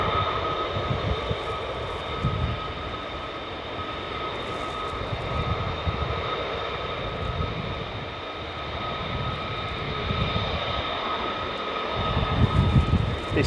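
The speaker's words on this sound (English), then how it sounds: "Huge military transport aircraft." A Boeing C-17 military transport aircraft flies low past an airbase with flaps drooped, its engines giving a steady, loud roar that swells near the end.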